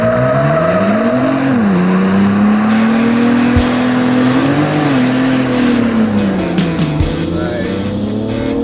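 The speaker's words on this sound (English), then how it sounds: "Will it do a burnout?" A 2022 Ford Bronco Raptor doing a burnout, loud and close, with a strained engine drone and continuous tire squeal shifting in pitch over several seconds.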